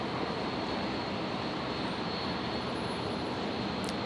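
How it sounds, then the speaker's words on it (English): A Singapore Airlines airliner climbing out over Moreton Bay from Brisbane Airport, a steady broadband roar with a constant hiss and no clear swell or fade, with no voices. "So Singapore Airlines is just heading out over Moreton Bay now."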